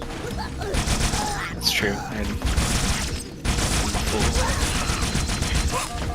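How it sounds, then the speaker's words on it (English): Rapid, continuous Needler fire from the Halo 2 video game, a dense crackling fusillade that keeps going almost throughout with a brief dip midway, while a voice speaks briefly over it. "One of my guns didn't stop shooting, so I shot too much."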